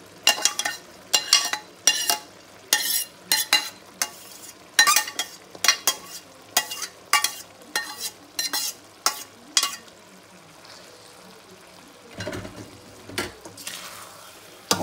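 A spoon stirs pumpkin risotto rice packed inside hollowed pumpkins, scraping in a quick, regular series of strokes with soft sizzling between them, close and fairly quiet; the rhythm breaks off briefly toward the end before one more stir.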